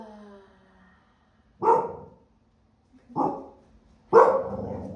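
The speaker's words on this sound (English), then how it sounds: "just give my dog a moment and maybe take another big breath into the nose and out the mouth. She is also wanting to chant with us" A dog barks three times nearby, each a loud single bark trailing into a short whine, spaced a second or more apart in an otherwise quiet room, after a sustained humming chant fades out.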